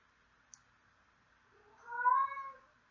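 A house cat lets out a single drawn-out meow, moderately close, in an otherwise quiet kitchen. A tiny click comes just before it.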